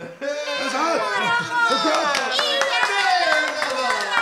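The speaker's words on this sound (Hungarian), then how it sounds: "sapkát dobáltak a levegőbe, tapsoltak és fütyültek" In a children's audio story, clapping and whistling accompany a crowd on a riverbank cheering a fisherman; rapid clapping runs under layered whistles and lively voices, with a narrator speaking over the scene.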